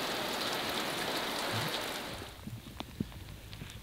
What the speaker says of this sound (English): So today it is also raining.